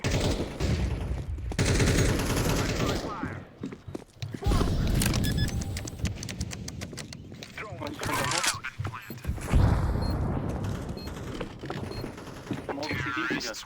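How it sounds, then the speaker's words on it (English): A flashbang grenade is thrown during a video game shootout, amid dense gunfire, sharp bangs and mechanical clicks, with a heavy blast near the end; players talk over the action throughout. "I'm throwing a flashbang."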